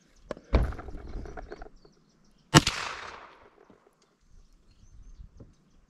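.357 Magnum revolver fired over a chronograph outdoors, two sharp loud shots about two seconds apart, each followed by a short rumbling echo that fades into quiet.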